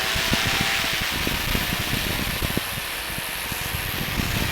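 Steady droning engine of a flying Lazy Boy recliner aircraft, a constant loud buzz with rapid pulsing throughout and no talk.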